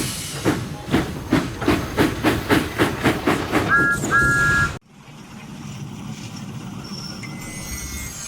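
A steam locomotive chuffs along in a fast, regular rhythm of loud exhaust puffs with hissing steam and a brief whistle, before cutting abruptly to quieter ambient sound.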